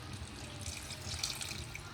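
Water is poured into a pot of pork adobo simmering with vinegar, a short continuous splashing gush with no talking.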